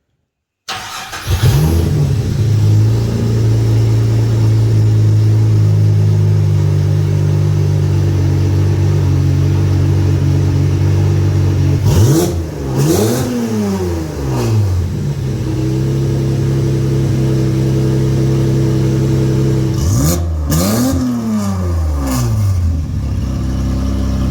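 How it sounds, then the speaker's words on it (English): A car's freshly rebuilt Ecotec engine starts and idles with a steady low rumble, then is revved twice, the pitch sweeping up and falling back each time, loud and close. "listen to it on idle and a couple of revs"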